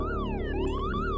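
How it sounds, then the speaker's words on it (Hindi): An ambulance siren wails in rising and falling sweeps, fairly loud and continuous over a low rumble, with no talk. "सूरज को सुनाई दिया कि एक एम्बुलेंस"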